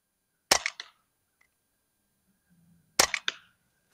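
Two sharp CO2-powered shots from an Umarex Glock 19X Gen 5 BB pistol, each a loud crack trailed by a brief rattling echo, spaced about two and a half seconds apart with near silence between.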